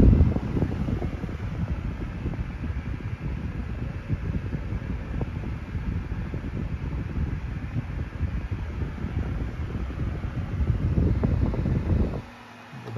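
A Panasonic F-9200 9-inch desk fan runs steadily nearby, a continuous airy whoosh with a faint rattle, ending abruptly near the close.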